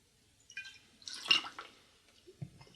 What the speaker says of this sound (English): We're going to pour it, make it right in our glass.